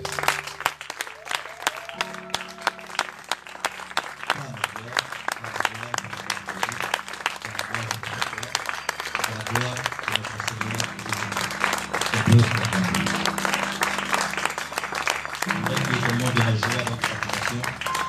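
A church worship congregation claps, starting as steady rhythmic clapping that swells into dense, continuous applause, with voices speaking and calling out over it.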